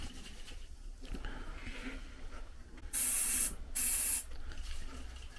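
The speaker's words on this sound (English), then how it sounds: "The old easy starts coming out, spraying it in" Two short, loud hissing bursts of aerosol starting fluid sprayed into a Vespa scooter engine, close up, rise over a low background rumble with a brief pause between them.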